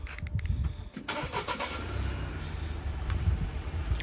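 A 2023 Ford Escape ST Line with the 1.5 EcoBoost engine is started by remote, with a few clicks followed by the engine catching and settling into a low, steady idle nearby.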